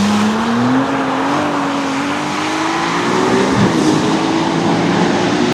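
A Ferrari F80 hypercar engine whines at high revs, rising then dropping sharply as the car rushes by, loud with no talking.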